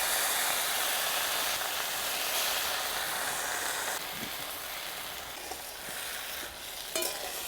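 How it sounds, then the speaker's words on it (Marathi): Vegetables frying in hot oil in a kadhai, a steady loud broadband sizzle that eases slightly partway through, with faint stirring clinks and no talking. "तेल गरम झालंय भाजी टाकून घेऊ"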